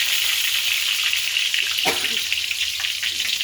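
Curry leaves and mustard seeds crackle in hot oil for a Sunday chicken gravy, a loud, steady frying hiss with a brief splatter burst midway.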